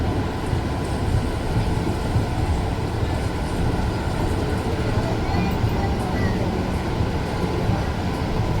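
A train rumbles steadily along the tracks near Banaras station, loud and close, with a continuous low roar and faint rattling throughout.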